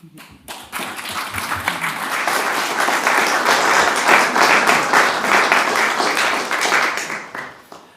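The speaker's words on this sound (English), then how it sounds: "Actually, you could keep applauding if you wanted" Sustained audience applause fills a hall at a professional members' day, dense and loud throughout, rising quickly at the start and tapering off near the end.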